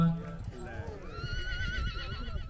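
Horse at a tent pegging event held for a Pakistan Independence Day celebration in Bradford, UK, with a whinny and hoof clip-clop under continuous announcer commentary and crowd noise, fairly close.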